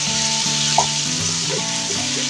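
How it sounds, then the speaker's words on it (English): Tomato paste frying in a pan gives off a steady, close sizzling hiss that holds through the whole moment, with soft tonal sounds running underneath. "let me fry this tomato paste first"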